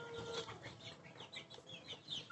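Quiet clucking from a group of two-month-old chickens runs throughout, soft overlapping calls and peeps at a low level.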